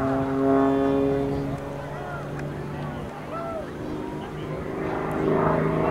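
An Extra 300L aerobatic airplane performing at an air show, its engine droning steadily with a sustained tonal hum that dips and swells as it passes at a distance.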